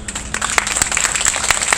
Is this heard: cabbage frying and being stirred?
no